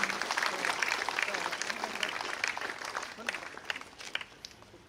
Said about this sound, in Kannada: ಜೋರಾಗಿ ಅವರನ್ನ ಚಪ್ಪಾಳೆ ತಟ್ಟಿ ನಾವು ಅಭಿನಂದಿಸೋಣ